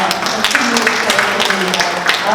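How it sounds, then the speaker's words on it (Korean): Clapping from the audience at a Busan-Ulsan-Gyeongnam megacity forum fills the room as a loud, dense patter, with a voice speaking over it. "다시 한번 큰 박수로"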